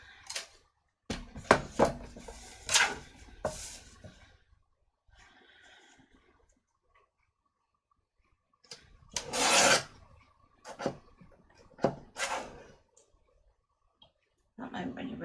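Several sharp rasping cuts from a paper trimmer slicing cardstock for handmade Valentine's cards, in separate bursts with quiet gaps between them, close and fairly clear.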